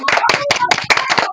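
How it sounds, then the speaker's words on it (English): Brief round of hand clapping from a small group, loud and close, with rapid uneven claps lasting just over a second. "A round of applause for her."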